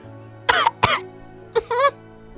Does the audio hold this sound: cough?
yes